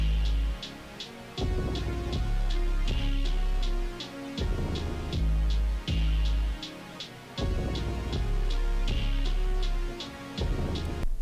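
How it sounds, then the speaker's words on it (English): A beat with halftime drums and a toned-down melody: heavy booming kicks and crisp, evenly ticking hi-hats drive a slow groove under a soft synth line, loud and steady throughout with no voices. "This is with the toned down melody and the halftime drums."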